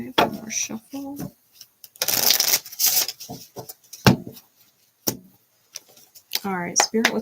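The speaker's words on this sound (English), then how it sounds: "Okay, one more shuffle." Quick riffling and shuffling of cards in short bursts, with a person speaking between the shuffles.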